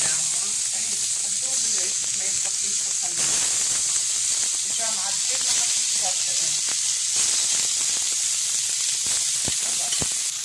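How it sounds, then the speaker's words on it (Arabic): Escalope frying in a little oil, a continuous bright sizzle and hiss with crackling pops, steady and close throughout, with faint voice or clatter in the background. "خلي يطيب الاسكالوب"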